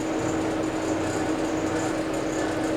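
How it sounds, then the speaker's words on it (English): Steady engine-bay whine from a worn power steering pump on a high-mileage El Camino, about 300,000 miles: a continuous mechanical drone with a faint high tone riding on top, constant and close, with no voices. "I'm guessing that noise is just going to be the power steering pump."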